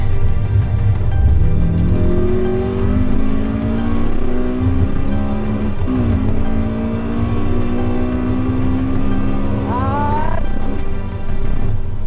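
A Honda Civic EG with a K-series engine revs hard through its gears on a race track lap, the loud, steady engine note climbing with each upshift and a brief dip near the end, no talk over it.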